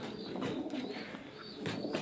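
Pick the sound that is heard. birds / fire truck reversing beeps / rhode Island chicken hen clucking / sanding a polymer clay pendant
birds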